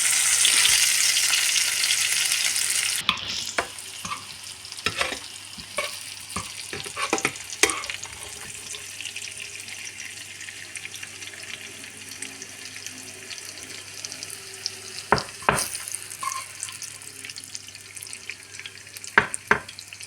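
Beef patty and onions frying in a pan, with a steady close sizzle and occasional sharp clicks and scrapes; the opening seconds carry a brief rush like running tap water.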